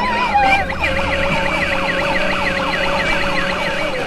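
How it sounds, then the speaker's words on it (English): An electronic siren-like horn rings out from a Doc McStuffins ride-on toy ambulance, a fast warbling tone repeating evenly for several seconds, moderately loud over a faint background hum, with no talking. "Whoa, horn sound."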